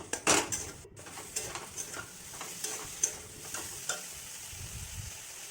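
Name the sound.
stirring and sautéing spices with soybeans in a pan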